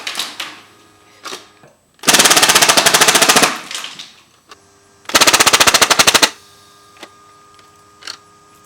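A Nerf Magstrike toy blaster fires a full clip down a hallway in two rapid mechanical bursts of rattling shots, each lasting about a second or more, with quieter clicks and handling noises around them.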